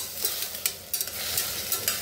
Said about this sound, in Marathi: आता हलवून घेऊया जरा।